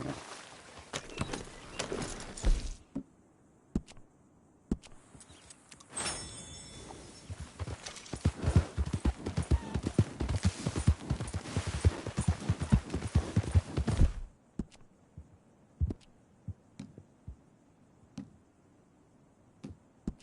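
Horse hooves clip-clop in Red Dead Redemption 2, a steady walking rhythm of close, distinct hoofbeats that grows denser in the middle stretch, then stops and leaves a few scattered faint taps.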